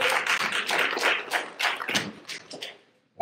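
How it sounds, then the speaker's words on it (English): A church congregation claps hands in praise during a Sunday morning service, a dense, fairly close run of applause with uneven bursts that gradually thins and fades. "Let's give the Lord a hand clap of praise."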